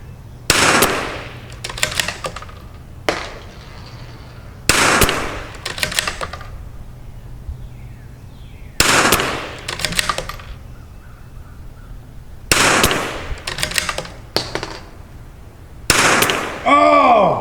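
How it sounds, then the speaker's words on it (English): Rifle shots during a long-range match stick shooting challenge, roughly seven sharp loud cracks spaced a few seconds apart, each with a short ringing decay over a quiet outdoor background. "The trigger went off before I was ready."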